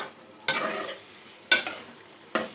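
Spices are stirred into a simmering spicy vegetable curry with keema and potato, three distinct scraping strokes of a spoon against the pot spaced about a second apart over a quiet bubbling background.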